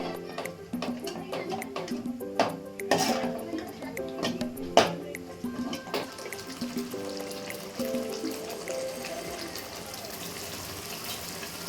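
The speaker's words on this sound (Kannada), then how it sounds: "ಈಗ ಏನು ಮಾಡ್ತೀನಿ ಅಂದ್ರೆ ಇದಕ್ಕೆ ನೀರು ಹಾಕೊಳ್ತೀನಿ ನಾನು" Water is poured into a cooked red fish curry masala in a pot, making splashing pours and scattered drips that rise and fall before settling into a softer, steady flow.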